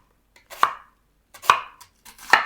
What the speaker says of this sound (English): like to slice my onion just long ways